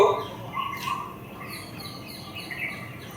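Birds chirp and call in a quiet outdoor setting, with short bright notes scattered over faint background ambience; no one speaks.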